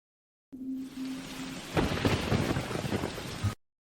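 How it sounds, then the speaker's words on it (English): Steady rain falls outside a manor, a soft even wash that swells into heavier, rumbling bursts like thunder partway through; no voices. "It is raining."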